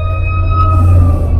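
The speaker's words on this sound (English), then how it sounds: "there's these sirens going off and I'm like literally in their lane" Emergency vehicle sirens sound on the road with a steady, tonal wail, fairly loud over a low rumbling traffic hum.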